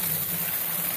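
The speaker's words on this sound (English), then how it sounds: "then I start filling it up with water from a pitcher" Water from a pitcher pours steadily into a bucket holding OxyClean for bottle washing, a continuous close gush lasting the whole moment with no talk.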